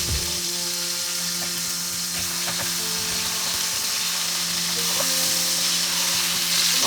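Katla fish pieces fry in hot oil over a low flame in a pan, a dense, steady sizzle with occasional pops and spatters, close and consistently loud, with no talking.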